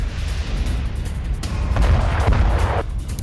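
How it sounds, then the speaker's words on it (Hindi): Artillery cannons fire in war footage from the Russia-Ukraine war, with booms landing in a dense rumbling background of combat noise; several heavier bursts stand out toward the end. "डीपीआर के सैनिकों पर ड्रोन और तोप से हमला।"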